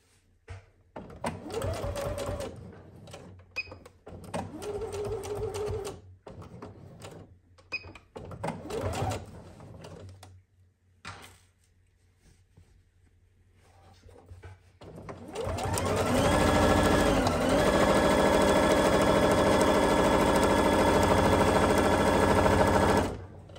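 Sewing machine stitching thick fabric to assemble a pocket runs in several short, rapid mechanical bursts with pauses, then one long, loud, continuous run of stitching at close range.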